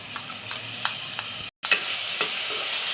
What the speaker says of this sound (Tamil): இப்போ அரைச்சி வச்ச விழுதை போட்டு நல்லா சுருள வதக்கிடுங்க.